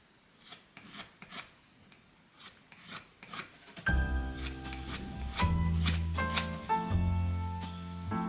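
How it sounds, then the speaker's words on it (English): Putty being spread and worked into large scratches during a DIY repair, heard as soft rubbing and scraping strokes, quiet and intermittent at first, then under a louder layer of tonal background music. "I'm using the putty and I'm filling in those big scratches that I have."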